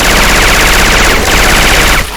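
Rapid automatic gunfire from Left 4 Dead 2 fitted with Syphon Filter weapon sounds, a loud, close, continuous stream of fast shots that cuts off abruptly near the end.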